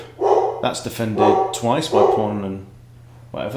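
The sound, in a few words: excited dog barking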